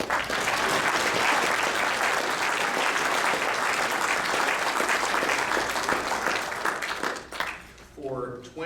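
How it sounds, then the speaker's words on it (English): Sustained applause from an audience at the 2014 Basketball Manitoba Awards, dense steady clapping for about seven seconds before fading, followed by a brief voice. "You can clap."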